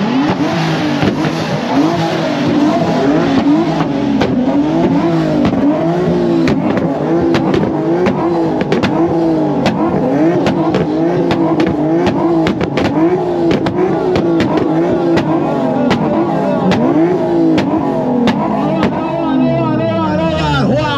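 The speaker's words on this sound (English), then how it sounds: "Who wants to do a burnout competition?" A car doing burnouts on the second floor of a parking lot: the engine roars and revs continuously at high pitch with rising and falling surges, loud and close, and voices can be heard under the noise.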